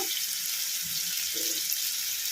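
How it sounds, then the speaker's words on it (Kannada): Tomatoes fry in a pan with a steady, even, hissing sizzle that stays close and constant throughout, with only a few faint low clunks beneath it. "ಟೊಮೊಟೊ ಮೆತ್ತಗೆ ಫ್ರೈ ಆಗೋವರೆಗೂ ಫ್ರೈ ಮಾಡ್ಕೊಂಬಿಡೋಣ"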